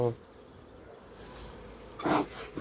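Honeybees at home beehives during a light hive inspection give a faint, steady buzz throughout, with a brief louder rustle of movement near the end.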